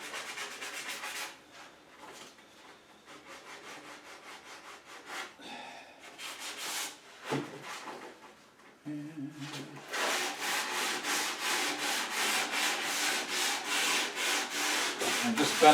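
Close, rhythmic hand sanding of burred wooden edges on a Murphy bed, the pad bent over a corner; uneven scrubbing strokes with pauses and a few knocks early on, then a fast, steady back-and-forth sanding run to the end.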